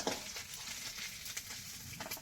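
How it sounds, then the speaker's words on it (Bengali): Koi fish fries in hot oil in a home kitchen, giving a soft continuous sizzle with scattered crackles and pops at a moderate distance, fairly quiet and with no voices. "মাছটা ভাজা হয়ে গেছে, এখন উঠিয়ে নেব।"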